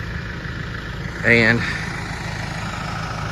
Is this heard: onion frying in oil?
no